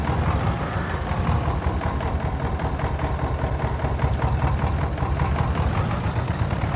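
A tractor engine idles in Farming Simulator 22, a steady, loud mechanical drone with a low rumbling pulse that runs unbroken and alone throughout.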